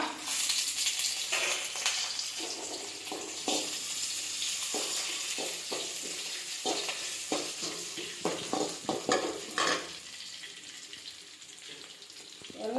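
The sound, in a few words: shallots sautéing in a pan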